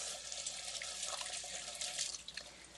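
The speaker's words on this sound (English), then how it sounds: "I wash my hands after everything." Tap water runs steadily into a kitchen sink while hands are washed, a close, continuous splashing hiss with small shifts as the hands move under the stream.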